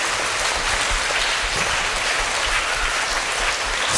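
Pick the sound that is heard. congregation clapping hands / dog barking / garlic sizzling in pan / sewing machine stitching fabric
congregation clapping hands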